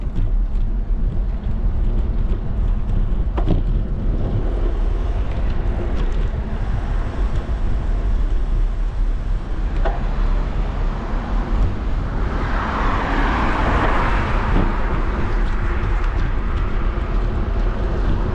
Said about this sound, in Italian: passano le macchine, è molto rumoroso